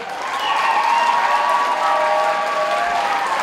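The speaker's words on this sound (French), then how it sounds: "La première qui est Tchetch, on l'applaudit très fort." A crowd applauds steadily at a live event, with dense sustained clapping and some cheering filling the whole stretch, loud and close with no pause.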